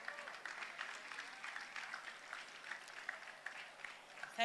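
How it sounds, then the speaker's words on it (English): Audience applause at a college graduation ceremony, a steady, fairly distant and soft patter of many hands clapping that lasts throughout. "A round of applause one more time for Senator Dino Melaye."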